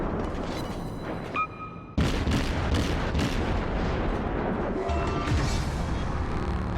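Heavy naval gunfire from a warship's main battery in the online naval combat game World of Warships, a sudden loud boom at two seconds followed by a sustained rumbling roar, with a few fainter thuds and crackles layered through it.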